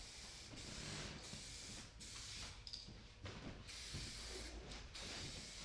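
An aerosol can with a fan tip sprays taxidermy sealer in several hissing bursts separated by brief pauses, faint and close, without talk.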